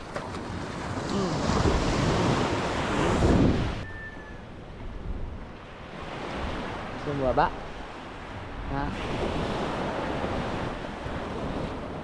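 Sea waves wash onto a beach in steady broadband surf mixed with wind buffeting the microphone, while a woman calls out to a child over the water noise.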